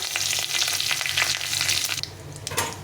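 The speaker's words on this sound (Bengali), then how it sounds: "তেলটা গরম হয়ে গেছে আমি একটা শুকনো লঙ্কা ফাটিয়ে দিলাম একটা তেজপাতা" Dried red chili and a bay leaf splutter in hot oil, a continuous loud crackling sizzle with sharp pops throughout, heard alone with no talk.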